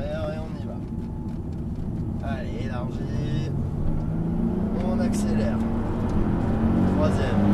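During a driving lesson, a car engine rises steadily in pitch as the car speeds up out of a bend, a close, continuous drone heard under an instructor's voice.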